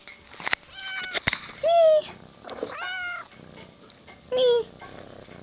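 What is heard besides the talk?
pet cat meowing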